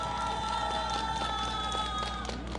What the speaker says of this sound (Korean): 다시 한번 뜨겁게 감사의 박수하겠습니다